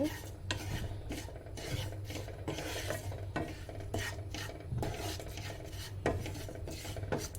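Oats being lightly roasted in a little ghee in a pan for a baby's breakfast: a steady, close scraping and rasping of a spoon against the pan, with soft clinks throughout and no talking.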